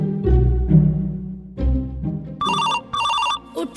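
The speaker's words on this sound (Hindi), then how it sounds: "फोन आवियो" A telephone rings in repeated electronic bursts, loud and close, following a few low musical notes at the start.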